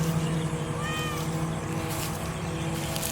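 A cat gives one short, fairly faint meow over a steady droning background hum.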